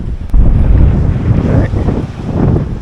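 Strong wind buffets the microphone on the open Dorset coast at Eype, a steady loud low roar with gusty swells and no voices.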